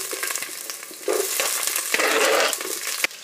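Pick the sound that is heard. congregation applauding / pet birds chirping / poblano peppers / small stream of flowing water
poblano peppers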